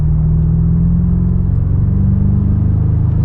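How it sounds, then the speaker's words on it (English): BMW M5 G90 (727 hp) accelerating from 2000 RPM at about 100 km/h, a steady low engine rumble and drone heard from inside the car, with no talking. "just watch this, how good the car performs if we're starting at 2000 RPM"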